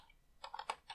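Quiet typing on a computer keyboard for a Gentoo Linux command, a quick run of four or five soft key clicks close by, with no talk.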